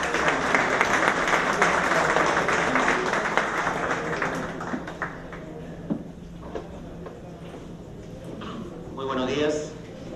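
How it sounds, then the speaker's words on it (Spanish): A conference audience of legal advisers applauds to welcome a speaker, a dense wash of clapping that is loudest at the start and slowly thins out, with a voice talking faintly over it near the end. "Recibamos con un caluroso aplauso"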